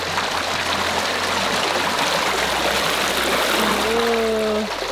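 Thermal spring water flows steadily through the travertine pools of Pamukkale, Turkey, a continuous rushing trickle heard close and loud throughout, with a brief tonal whistle near the end.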